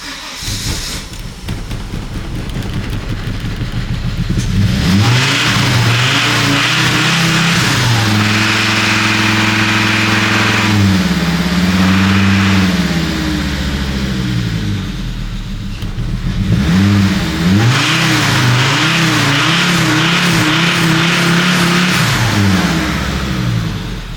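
A Volvo 850 engine, just brought back to running after a no-start fault, idles and then revs up repeatedly, its loud steady drone rising and falling in several long swells close by.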